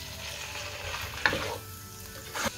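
Chicken pieces fry with garlic ginger paste in a karahi for Lahori chicken karahi, a soft steady sizzle broken by two sharper scraping stirs, with no talking.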